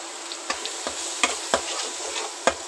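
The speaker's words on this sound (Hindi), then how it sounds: "अब प्याज को अच्छे से भूनना है" Ground onion paste with green chillies being fried in oil, a steady hiss of sizzling broken by about six sharp spoon scrapes and knocks against the pan at irregular intervals, close up with no talking.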